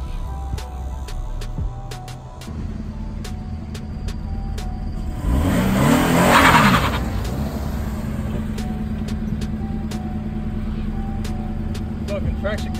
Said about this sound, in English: gonna do a burnout